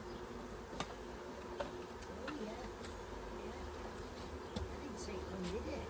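A honey bee swarm of roughly ten thousand bees settling into a box, a faint continuous low buzzing hum with occasional sharp ticks and clicks and a soft voice nearby.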